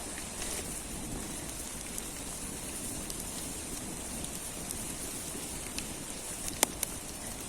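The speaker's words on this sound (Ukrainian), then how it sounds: "Падають краплі на розпечені дрова і шиплять." Rain falls on hot, burning firewood outdoors in a garden, giving a soft, steady hiss and patter with a few sharper drops popping through. The sound is quiet and has no talking.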